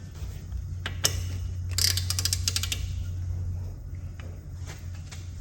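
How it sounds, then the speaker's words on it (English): A torque wrench tightening a fastener to 100 foot-pounds on a 2007 Dodge Nitro AWD during ABS wheel speed sensor work, with a few sharp clicks and a brief burst of rapid ratcheting over a steady low hum. "I'm gonna go grab a torque wrench and we'll get that to 100 foot-pounds."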